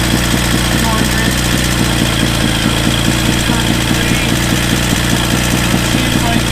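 A Yamaha XJ650 Turbo motorcycle engine idles steadily and loud up close, a constant rumbling throb with a left cylinder running cold, filling the whole stretch without pause.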